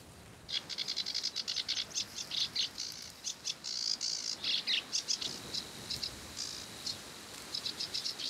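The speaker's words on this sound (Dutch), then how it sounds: "Ik hoor een snor daar" Savi's warbler reeling from reeds beside the Zwarte Water, a fast, sustained buzzing trill repeated in steady pulses, moderately near with faint background hiss.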